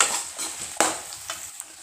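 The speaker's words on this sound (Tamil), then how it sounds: "நல்லா இப்படி கிண்டி விடுங்க." A spoon stirs chopped beans and green chillies frying in a pan for rava kichadi, with a steady sizzle broken by a few sharp scrapes and taps against the metal.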